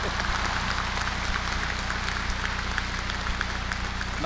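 Applause from a large audience at a spiritual gathering in Brisbane, a dense, even patter of many hands clapping that holds steady throughout without speech.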